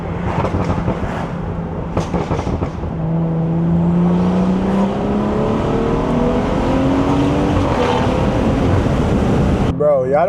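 BMW 340i with the B58 engine heard from inside while driving, intake and exhaust droning and rising steadily as it accelerates, loud and close, with brief clicks near the start.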